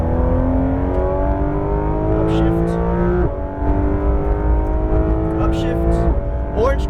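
A Porsche 911 GT3 RS of the 991.2 generation accelerates hard on a race track, its engine note climbing in steady loud sweeps, briefly dipping at an upshift midway and then rising again.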